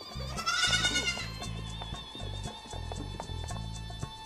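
Several goats bleat repeatedly in wavering, nasal cries that overlap and follow one another steadily, close by and fairly loud, with no talking.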